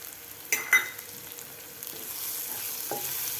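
Coriander sizzles in a tempering with onion, asafoetida, coriander powder and turmeric, a soft steady frying hiss with a couple of brief louder stirring clatters near the start.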